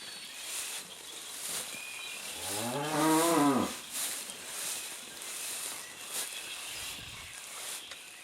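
A heifer gives a single clear moo in a barn where cattle are eating straw, a drawn-out harmonic call lasting about a second over steady background noise.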